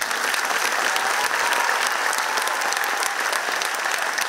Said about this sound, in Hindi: कक्षा तीसरी और चौथी के इन छात्रों के द्वारा की गई इस अलौकिक प्रस्तुति के लिए जोरदार तालियां